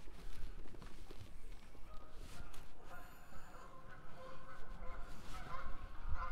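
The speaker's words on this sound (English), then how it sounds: "Geese." Geese honk near a wetland at a fishing spot, several short nasal calls at moderate distance over wind and shuffling, with some rustling movement close by.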